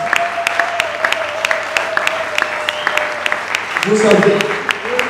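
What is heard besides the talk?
church congregation applauding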